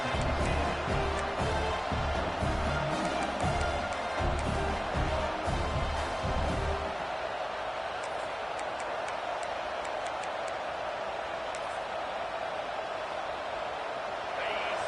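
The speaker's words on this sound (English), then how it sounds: "this crowd is making it miserable on this offense." Stadium crowd at a college football game, Colorado at Texas A&M, roaring loudly and steadily through a fourth-down defensive stand, with heavy low rumble in the first half easing to a sustained wash of cheering.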